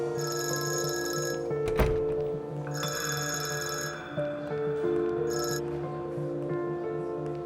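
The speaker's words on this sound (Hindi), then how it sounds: "दुआ का फोन है" A telephone rings in a Turkish drama scene, its electronic bell repeating in bursts with short pauses, loud and close, with no talk over it.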